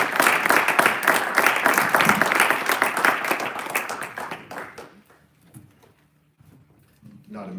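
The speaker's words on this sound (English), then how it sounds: "so we've given a bunch of rounds of applause for the kids" Audience clapping and cheering for students at a National Signing Day event, loud and dense for about five seconds, then fading to near quiet with scattered low noises.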